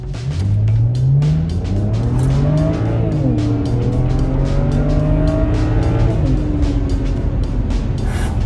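Automatic BMW E90 335 accelerating hard, engine climbing through rising revs with shifts and tire noise, loud and close with a whining tone sweeping upward.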